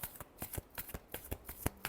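Tarot cards are shuffled by hand up close in a quick, steady run of soft papery riffles and slaps lasting about two seconds, with no voice.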